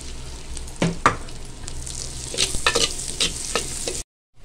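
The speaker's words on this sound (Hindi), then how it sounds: "गोटे चामच बटर दे देमा कि जीरा दे देमा आ 2टा तेजपतर आ कि प्याज से देखिए भाजी देमा" Onions fry in butter with cumin seeds and bay leaves in a hot pan, a close crackling sizzle broken by scraping stirs and spatula clacks, ending abruptly in silence.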